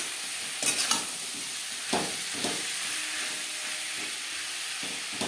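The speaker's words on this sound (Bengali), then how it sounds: "পেঁয়াজের সাথে টমেটো বেশ ভালো করে মিক্স করে দেব।" Onion and raw tomato being stirred together in a hot frying pan, a continuous bright sizzle with a few spoon scrapes and bursts of louder hissing, close up.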